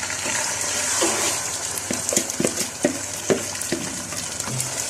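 Rice sizzles in hot ghee and oil in a pan for white rice for Egyptian fatta, a steady close frying hiss with scattered louder crackles and stirring scrapes, no talking.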